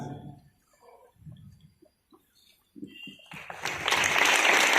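Someone speaks with pauses at an Independence Day celebration at a school in Dehradun, then an audience breaks into applause that quickly swells to full, close clapping and keeps going to the end.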